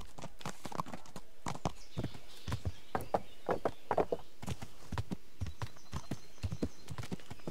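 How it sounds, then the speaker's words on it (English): Horse hooves clip-clop in steady walking rhythm through a medieval village in the video game Kingdom Come: Deliverance, close and clear with a faint ambient backdrop and no talking. "Hello, horsey."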